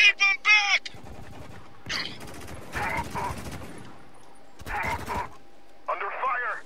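Bursts of enemy gunfire in Spec Ops The Line crackle at moderate distance in short volleys, interleaved with shouted squad voices and radio-like chatter.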